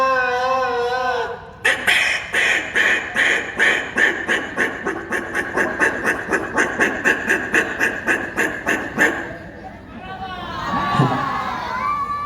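A voice imitates ducks, pushing out a rapid, loud, close run of nasal quacks in a steady rhythm for several seconds, then ending on a higher warbling call.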